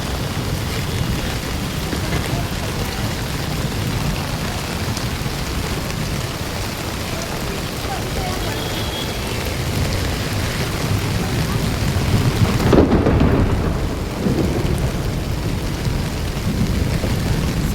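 Heavy rain pours steadily over a flooded Delhi street, a dense continuous hiss and patter with a brief louder surge midway, loud and close throughout.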